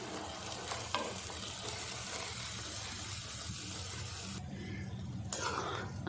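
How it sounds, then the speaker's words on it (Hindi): Rice tipped into melted jaggery in a pan sets off a steady, close sizzle and stirring scrape, briefly quieting near the end before resuming, with no one talking. "गुड़ हमारा मेल्ट हो गया। अब इसमें चावल डाल देते हैं।"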